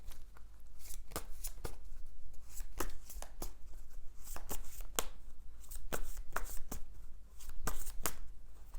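Tarot cards being shuffled by hand close up, a continuous papery riffle punctuated by regular crisp slaps as the deck is cut and squared, with no talking over it.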